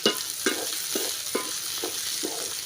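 Onions and garlic sauté in hot oil, a steady sizzle broken by about six periodic stirring scrapes, close and moderately loud with no voices.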